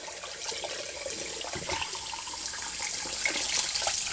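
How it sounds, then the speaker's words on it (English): Hot tap water runs steadily into a sink while leftover candle wax is rinsed out of a container, a continuous close splashing rush with no talking. "You just rinse it in the hot water."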